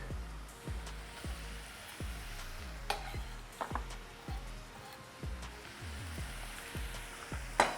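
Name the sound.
garlic and onions sautéing in a pan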